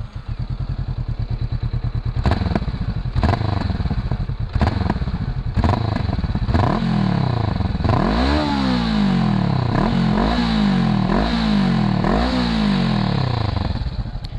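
A Honda CBR 500 R twin with its exhaust baffle in place idles with a steady throb, then is revved repeatedly in sharp, rising blips that fall back, loud and close.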